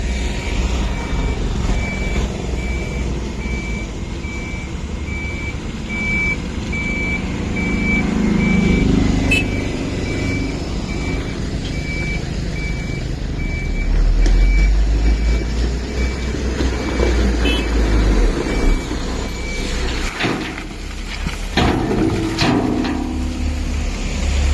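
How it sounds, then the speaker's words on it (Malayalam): Traffic on the NH66 highway beside a construction site, with vehicles rushing past in a steady loud rumble that swells and fades as each one goes by, and a thin repeating reversing beep running through much of it. "വണ്ടിയൊക്കെ ചീറിപ്പാഞ്ഞാ കേട്ടോ പോകുന്നത്."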